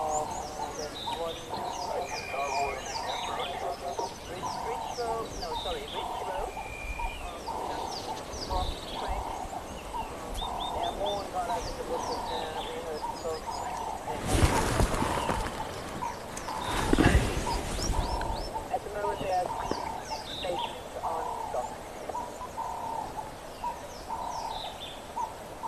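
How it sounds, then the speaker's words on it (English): Many wild birds call and chirp continuously around a live safari viewing of rhinos, a dense chorus of varied calls at moderate distance, with a couple of brief rustling or wind bursts midway. "spending time sitting here watching these rhino with all the wonderful bird calls around us."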